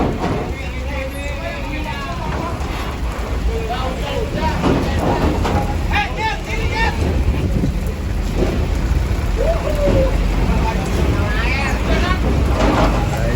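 Heavy rain pours down at Merak harbour as a bus boards a ferry, a dense continuous hiss of water drumming on surfaces with low rumble, while people shout and talk over it.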